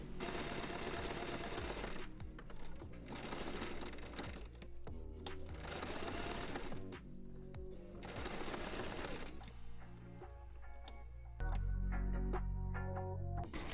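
Sewing machine stitching a reversible, asymmetrical swimsuit, running in steady bursts with short pauses between them, close and clear, with a low thump near the end and no talking.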